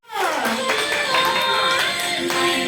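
Hand clapping at a child's birthday party, with steady, dense claps carrying on for a few seconds amid cheerful voices and ambient party noise.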